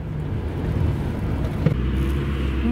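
Car on a freshly ground road surface, revving hard and spinning its wheels as it struggles to pull away; a loud, continuous engine and tyre roar with a brief sharp knock partway through, no talking.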